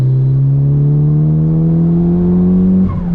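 Mitsubishi Lancer Evo 5 turbo engine revving up steadily on a winding road, a strong rising tone held close and loud before easing off abruptly near the end.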